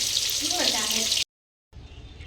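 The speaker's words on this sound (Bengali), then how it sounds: "এখানে মাছ ভাজা চলছে" Fish fries in a pan with a bright crackling sizzle for just over a second, then a brief cut to silence before the sizzle returns more quietly; a voice is heard over the frying.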